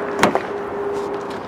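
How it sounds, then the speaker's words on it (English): A Nissan Note Acenta rear car door shuts with a short solid thud and a quick secondary knock, followed by a faint steady hum. "Closing up the rear door and coming around to the front."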